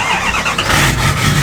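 A truck engine, recently given performance modifications, cranks and fires up, its broad mid-range roar loud and close for the whole brief moment with no talk over it.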